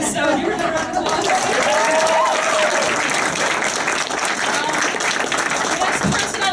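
Audience applause fills the room, a dense, sustained clapping from a crowd at a speech or presentation, with a few voices and laughter mixed in.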